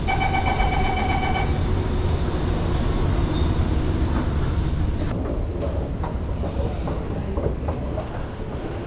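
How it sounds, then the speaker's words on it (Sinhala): A Singapore metro train hums and rumbles steadily at a station, with a repeating electronic tone early on and clanks as it moves. "දැන් මෙතන ට්‍රේන් එකක් තියෙනවා."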